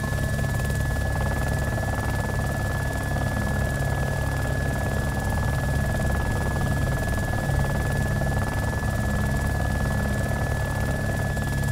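Helicopter in the DayZ video game, a constant droning rotor and engine hum with a steady whine, loud and unbroken from start to end.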